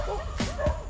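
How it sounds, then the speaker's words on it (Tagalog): A dog barks twice in quick succession, sharp and fairly close, with no one talking over it. "ang ingay ng aso"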